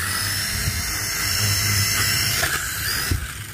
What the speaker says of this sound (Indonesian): Ada helikopter remote control. Coba kita nyalakan.